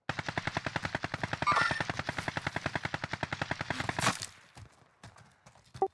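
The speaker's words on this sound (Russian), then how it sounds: "Кто-то еще стреляет." Rapid automatic gunfire from Call of Duty: Warzone, a steady stream of closely spaced shots for about four seconds, then a few quieter scattered sounds.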